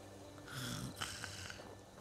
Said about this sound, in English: Your character started snoring